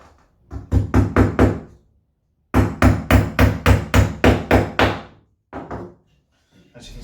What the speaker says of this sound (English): One of the reasons we use such a small hammer is just so that it doesn't get the fingers